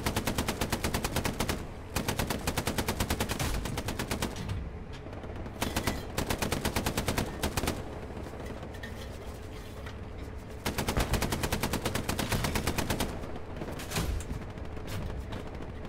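In the Hell Let Loose video game, a tank shells infantry with high-explosive rounds amid dense machine-gun fire, with loud rapid bursts of shots broken by brief pauses and repeating throughout.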